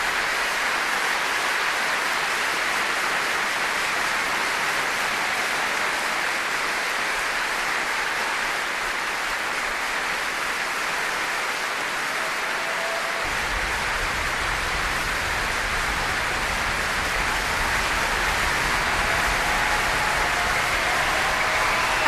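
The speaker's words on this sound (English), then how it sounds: "The audience here giving a welcome and a rapturous round of applause for a truly amazing performance" Sustained applause from a concert audience after a piano concerto performance with the BBC Philharmonic, a dense steady wash of many hands clapping that holds evenly throughout with no voices over it.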